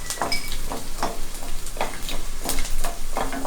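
Country garlic sautéing in a pan for tomato thokku, with soft sizzling and repeated scraping stir strokes at a steady rhythm, close and moderately loud, no talking.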